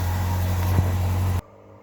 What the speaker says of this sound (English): sorry about the noise in the background there, it's wash machine.